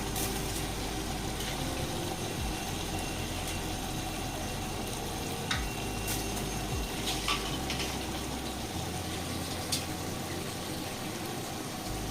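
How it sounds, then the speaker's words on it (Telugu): Continuous watery gushing and splashing, steady and close, as washed rice and water are tipped into a pot for mutton biryani, with occasional soft clinks. "వాష్ చేసుకున్న బియ్యాన్ని దీంట్లో ట్రాన్స్ఫర్ చేసేసుకోండి"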